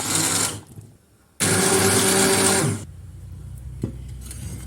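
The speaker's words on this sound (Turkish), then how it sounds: "Çorbamı blenderımla bir güzel çekiyorum." A blender purees lentil soup in two loud motor bursts, a short one at the start and a longer whirring run after a pause, then quieter clatter from the kitchen.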